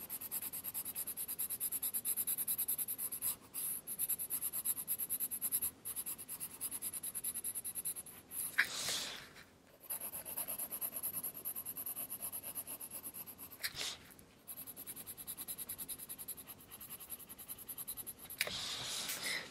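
A pencil shades a drawing in long, steady, soft scratchy strokes close by, broken by a few brief pauses and quieter rubbing passes, with no voices.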